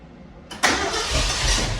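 A Ford Highboy truck engine cranks and catches after a short quiet lead-in, then settles into a loud, steady close-up idle with no talking.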